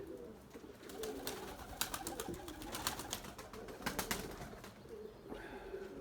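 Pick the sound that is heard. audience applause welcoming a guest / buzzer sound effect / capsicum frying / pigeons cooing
pigeons cooing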